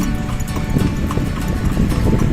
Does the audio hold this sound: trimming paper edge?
no